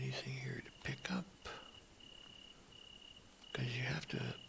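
Crickets chirping steadily in a video game, a faint continuous high trill that runs throughout while a voice talks over it at the start and end.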